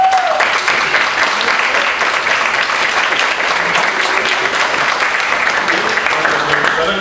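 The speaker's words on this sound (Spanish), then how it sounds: "Un aplauso para Carlos también." Steady, dense applause from a concert audience at the closing concert of an international double bass festival, sustained and fairly loud throughout with no talk over it.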